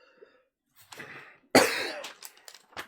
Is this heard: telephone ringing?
no